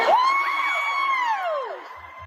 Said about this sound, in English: that cheer that bisexuals got